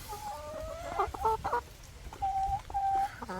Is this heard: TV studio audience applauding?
no